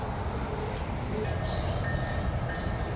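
A Tri-Rail commuter train rolls into a Florida station with a dense, steady rumble and broadband roar that stays loud and even throughout, with a faint high tone entering partway.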